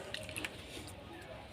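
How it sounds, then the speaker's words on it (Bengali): Leafy ghima greens being swished and rinsed by hand in a pot of water, giving soft continuous sloshing and squishing with light drips, close and moderately quiet, no voices. "এখন এই জলের মধ্যে শাকটা আমি 3-4 বার ভালো করে ধুয়ে নেব"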